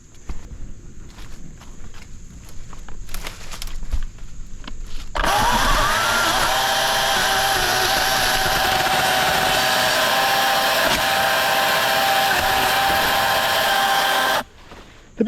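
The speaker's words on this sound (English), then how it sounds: "Nothing the saw can't handle. We'll cut right around in this spot here." A cordless chainsaw cuts through a tree branch: after several seconds of quieter rustling and footsteps, the saw starts and runs loud and steady at close range for about nine seconds, then cuts off abruptly.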